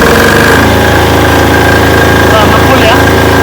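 A Potenza generator, custom-built for 220-volt AC output, running loud and close with a steady low throbbing drone and mechanical vibration; a voice is heard talking over it.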